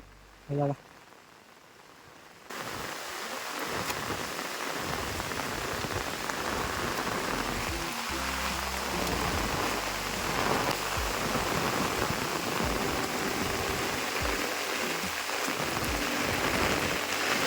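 Heavy monsoon rain in coastal Konkan, Ratnagiri, during river flooding pours down as a dense, steady hiss. It starts after a brief quiet opening with a short sound and stays loud to the end.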